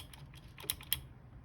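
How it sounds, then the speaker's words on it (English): Keys on a Red Dragon RGB mechanical keyboard pressed in a short light run of soft clicks with two sharper taps, close and quiet, no voices. "All of the keys sound real nice and smooth"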